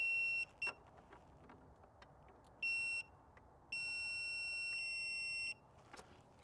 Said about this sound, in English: we're going to use the buzzer just to make it easy